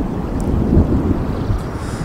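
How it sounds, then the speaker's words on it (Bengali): Strong wind gusting steadily before a storm near dense forest, a continuous low rushing roar buffeting the microphone, loud and close, with no voices. "যেরকম বাতাস বইছে যখন তখন চলে আসতে পারে।"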